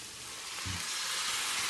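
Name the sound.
tomatoes added to a frying chicken curry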